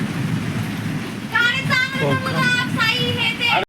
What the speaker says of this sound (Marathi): किती भारी पाऊस पडते.